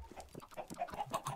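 Chickens in Minecraft giving short clucks, a quick run of soft, faint calls over about a second and a half.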